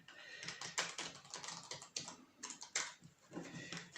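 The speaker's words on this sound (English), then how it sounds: "so we're going to quickly shuffle these cards a bit" Playing cards are shuffled close up in quick irregular bursts of crisp riffling and clicking, fairly quiet, during an online club card game.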